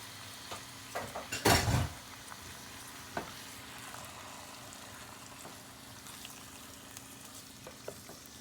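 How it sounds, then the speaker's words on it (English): Meat for tacos fries in a pan with a little olive oil, giving a soft, steady sizzle; a loud clatter of stirring breaks in early, then only faint crackles and occasional ticks remain. "Okay, so you're gonna fry the meat,"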